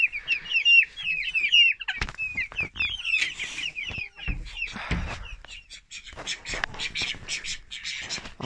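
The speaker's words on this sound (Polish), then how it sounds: "kura weszła" Chickens in a coop at evening closing time give high chirps and clucks at first, followed by scattered rustling, thumps and soft clucking; the birds sound close and moderately loud.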